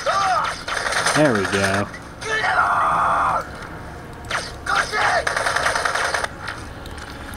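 Gunfire and mechanical weapon noises from the PC shooter Crysis running on an Asus 1215n netbook, bursts of shots and clanking effects mixed with game sounds while someone talks briefly over them.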